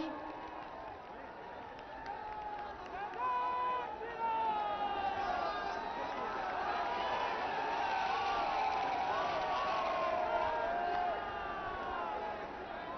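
Large crowd of women at a mass rally cheering and applauding for the Prime Minister, a steady, loud wash of clapping and voices with whoops rising over the whole stretch.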